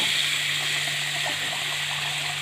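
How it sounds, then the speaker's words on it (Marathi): Water poured into a pot of soaking millet, a soft continuous gushing pour at low level, with no voices. "आता आपण यामध्ये पाणी घालूया"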